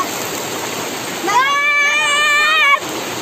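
Water pours steadily from a mountain spring spout in an Uttarakhand village, a continuous loud splashing rush, with a voice briefly calling out over it midway.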